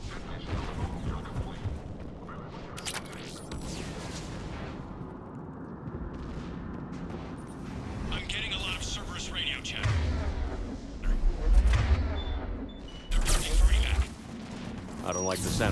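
Mortar fire in Mass Effect 3 booms amid battle noise. Deep, heavy thuds land in a short cluster near the end, over continuous combat din with voices talking.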